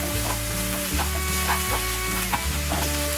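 A piece of butter sizzles loudly in a hot pan with chopped spring onion, a dense continuous frying crackle close by, with stirring scrapes and no talk over it.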